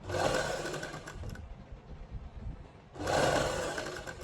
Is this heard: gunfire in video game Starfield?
no